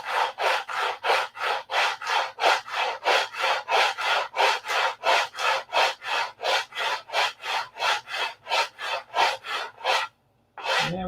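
Steady back-and-forth strokes of sanding on a P-47 model airplane fuselage, about thirty rhythmic rasping passes, close and loud, ending in a brief pause and a final stroke.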